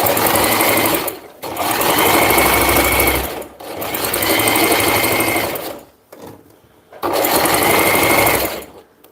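A sewing machine runs in long steady bursts, stitching fabric about half an inch from the edge with pins removed along the way. Short pauses separate the runs. The whirring is loud and close, with no talk over it.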